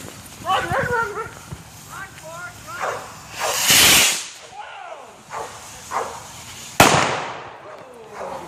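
Memorial Day fireworks launching nearby: sharp whooshing hisses and cracks burst out twice, with people talking and calling out in between.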